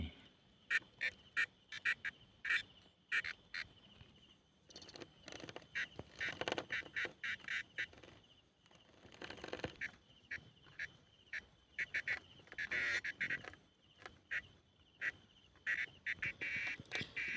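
Frogs in a pond give rapid, repeated clicking and croaking bursts in irregular runs, fairly near and clear, with quiet gaps between calls and insects faintly in the background.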